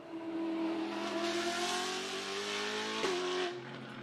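Brabham BT62 supercar engine holding a high, steady rev with harmonic tones, then a sharp shift around three seconds and a drop in pitch, loud and close with no voices.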